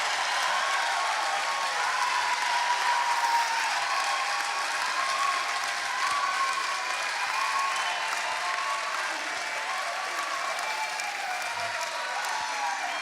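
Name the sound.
audience applause welcoming tour guests in a chapel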